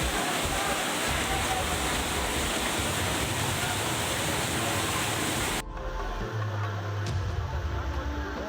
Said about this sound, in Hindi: वहीं राजकोट जिले में गोंडल नदी की विकराल धारा तबाही मचा रही है।